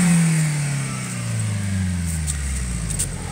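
A Suzuki APV engine, tuned with a Blackcore tuning kit, is revved to about 4000 rpm and the throttle is released, so the loud, close engine note falls steadily in pitch as it winds back down toward idle.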